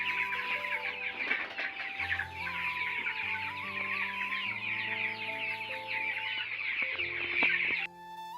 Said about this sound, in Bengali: অনেকটাই বড় হয়ে গেছে বন্ধুরা মুরগির বাচ্চাগুলো